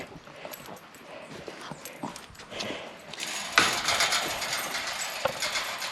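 Three indoor pet dogs shuffle and pad about a room, with light scrabbling and clicking footsteps that grow busier partway through, close and fairly quiet.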